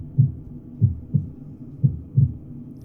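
Slow, steady heartbeat thumps in a guided meditation, low and soft, repeating roughly every half second to second in a calm rhythm with no voices over it.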